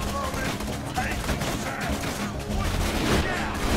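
Rapid, dense gunfire in the video game Borderlands 2, a continuous loud barrage of shots and impacts filling the whole stretch, with voices talking underneath.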